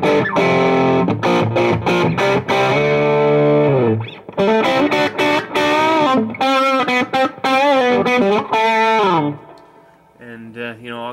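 Distorted electric guitar through an Emerald Green Distortion pedal into a Deluxe Reverb amp, cranked Marshall-style: loud, thick sustained chords and riffs with short stops, sliding runs and a quieter tail at the end.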